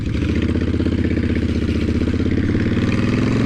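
A 2010 Honda Fury motorcycle engine runs close and loud with a steady, deep pulsing rumble, its throb rising slightly toward the end.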